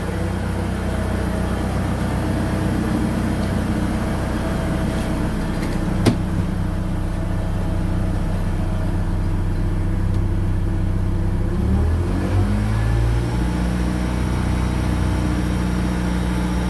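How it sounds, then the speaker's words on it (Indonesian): A BMW E36 with the M43 four-cylinder engine, just started after a coolant flush, runs steadily near 1000-1500 rpm in a continuous close hum with a brief shift in tone toward the end; nobody speaks. "Kita tahan gasnya di rpm 1000 hingga 1500."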